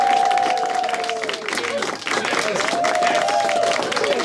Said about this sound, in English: can you put your hands together, raise your roof, and give as much love as you can to the stage for the wonderful Adam Green